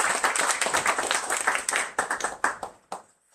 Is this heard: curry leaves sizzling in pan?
no